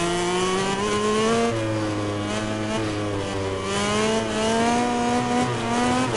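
A motorcycle engine screams at high revs in the MotoGP 19 racing game, its pitch climbing and dipping through gear changes in one steady, loud drone.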